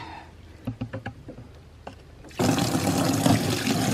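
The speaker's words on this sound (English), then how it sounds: "Rinse out the bucket a little bit." A bucket is rinsed out with water: several small splashes and drips come first, then a sudden loud gush of pouring, sloshing water takes over for the last second and a half.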